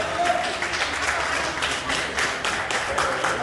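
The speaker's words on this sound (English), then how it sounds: "It's a very big round of applause." Applause from an audience at a Mende naming ceremony in Sierra Leone, a steady, close wash of clapping that holds level throughout with crowd noise beneath it.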